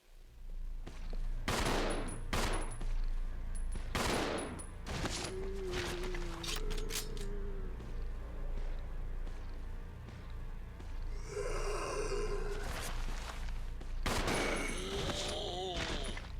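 Gunfire in Resident Evil 0 (2016 Remaster), a series of sharp loud shots in bursts and single cracks, mixed with grunts and game sounds.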